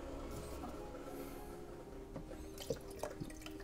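Coolant from the radiator of a 2003 Hyundai Santa Fe 3.5L V6 drips onto a drop sheet during an upper hose change, a few faint taps and drips standing out over steady low background noise.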